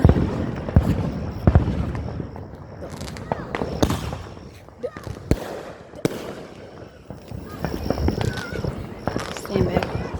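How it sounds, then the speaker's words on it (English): Consumer fireworks, likely a confetti bomb, bursting outdoors at a July Fourth gathering: a series of sharp pops and crackling bangs over about ten seconds, close and loud, with people talking and shouting throughout. "It's probably the confetti bomb."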